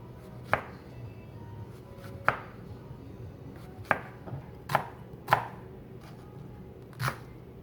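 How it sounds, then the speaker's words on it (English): A knife slices thinly through yellow squash and zucchini on a cutting board, six sharp separate chops spaced about a second apart, close and clear against a quiet room. "First, we'll cut up our vegetables. I like to do fairly thin slices."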